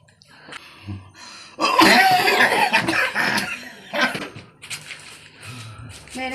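A person sick with fever and shivering coughs in several harsh, rasping bursts, loud and close, with strained throat-clearing sounds between them and a brief low voice near the start.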